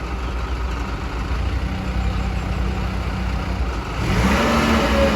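A Toyota 6FD25 forklift's diesel engine idles steadily at close range, then revs up louder near the end, with no talking.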